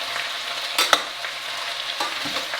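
Chopped onions hitting hot oil in a pan over medium-high heat for a vegan, gluten-free French onion soup, giving a steady close sizzle with a few sharp stirring scrapes and clatters.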